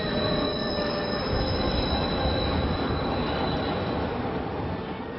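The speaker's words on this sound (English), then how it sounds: "We got a train going down the center of our street, elevated train. The sounds we hear are screeching sounds." An elevated city train runs down the middle of a street, its wheels screeching with high sustained squeals over a loud, continuous rumble that stays close throughout.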